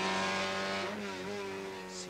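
A car engine drones and shifts pitch as the car pulls away, a steady, moderately near motor tone with no talk.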